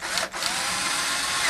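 A 12-volt battery-operated drill whirs steadily at close range, briefly dipping in pitch before spinning back up, loud and alone without speech, during installation of a flag pole.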